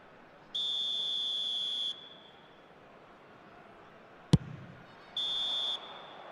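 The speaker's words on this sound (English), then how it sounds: "And the whistle goes for half-time." A referee's whistle in an eFootball match signals half-time: two sustained shrill blasts split by a brief sharp knock, loud and alone over a faint background.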